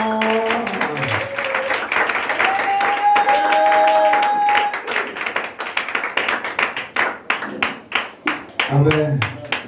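Church congregation clapping and cheering loudly, with voices calling out over dense clapping and a sustained tone, before the applause breaks into sharp rhythmic claps near the end.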